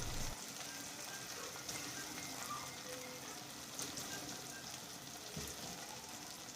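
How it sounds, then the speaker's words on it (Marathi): Onion and tomato frying in oil for Maharashtrian pithala, a steady, faint hissing sizzle with occasional soft stirring, heard alone without speech. "आता हे सगळं मिश्रण व्यवस्थित शिजवायचं आहे एक मिनटं तरी असं छान शिजून घ्यायचं आहे तेलावर"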